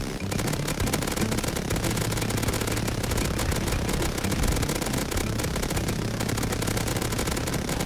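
A minigun firing explosive rounds in the survival video game Rust: a dense, continuous roar of rapid gunfire with crackling blasts, loud and unbroken for nearly eight seconds, with no voices over it.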